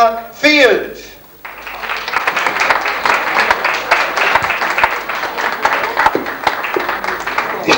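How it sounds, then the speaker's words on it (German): A live-show audience breaks into loud, sustained applause for performer Belinda Field, with dense clapping that holds steady after a brief voice at the start. "Applaus, Belinda Field."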